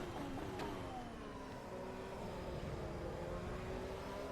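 In the racing game Assetto Corsa EVO, a Ferrari SF25 engine whines faintly, its pitch climbing and holding across a steady stretch of revs, quiet and alone.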